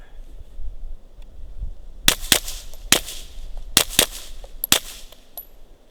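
A Ruger PC Carbine in 9mm fires at targets outdoors, sharp shots in a quick uneven series of about six cracks after a quiet stretch.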